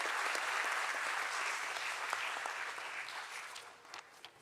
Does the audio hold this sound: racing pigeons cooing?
no